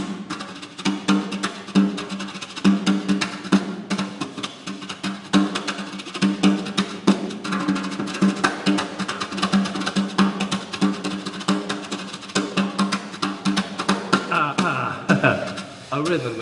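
Drum kit groove blending a New Orleans second line beat with a jazz swing beat, played steadily and loud for the full stretch with dense cymbal and snare strokes, no voices.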